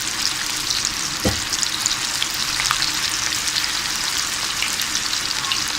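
Fish pieces frying in oil in a pan, a loud, dense, continuous crackling sizzle throughout, with one brief thump early on, no talking.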